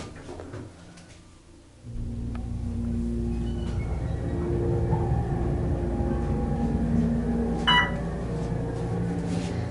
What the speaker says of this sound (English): And listen to the motor as we go up.